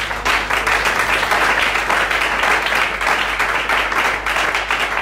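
A church congregation applauds in praise, dense rapid clapping sustained evenly and loudly at close range for the whole stretch, with no voices standing out.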